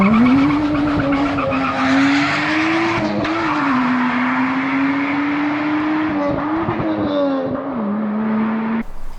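Loud, sustained tire squeal from a Toyota Chaser with a 1.5JZ engine and manual transmission, skidding with engine roar behind it, continuous and close for several seconds.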